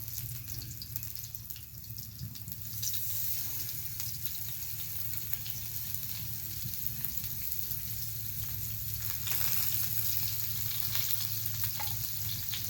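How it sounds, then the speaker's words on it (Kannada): Masala-coated mackerel fish frying in hot oil in a pan, a dense steady sizzle and crackle close by that runs the whole time, with no talk. "ಹೀಟ್ ಆದಮೇಲೆ ನೋಡಿ ನಾನು ಮಸಾಲೆ ಹಚ್ಚಿಟ್ಟಿದ್ನಲ್ಲ ಫಿಶ್ಶು ಅದನ್ನು ನಾವೀಗ ಹಾಕೋಣ"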